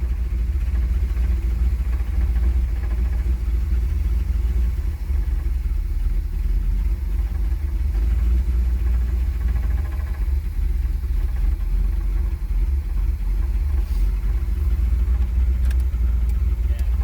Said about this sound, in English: The throttle cable's stuck. That's why it's idling that high.